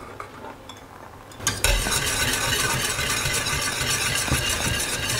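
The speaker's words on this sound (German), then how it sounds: "Das lasse ich jetzt so 3, 4, 5 Minuten köcheln" Ketjap Manis, an Indonesian sweet soy sauce, bubbles and sizzles in a pan over lowered heat. A quiet start gives way to a loud, steady frying hiss after about a second and a half, with no voices.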